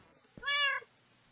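A single short cat meow from a pet cat named Mittens in the Minecraft video game, clear and close, alone against near silence.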